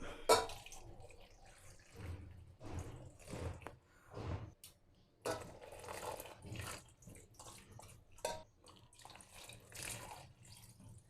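Water poured over orange peels in a pot, a splashing, trickling pour broken into several bursts with short pauses, close and moderately loud with no talk.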